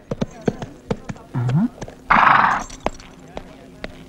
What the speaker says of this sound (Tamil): என்னையா குதிரையில வந்திருக்க?